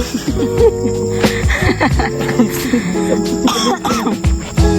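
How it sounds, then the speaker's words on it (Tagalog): Several rough coughs break out over a busy background of chatter and noise on a mountain hike, close by and fairly loud. "madadagdagan yung ubo ko nito"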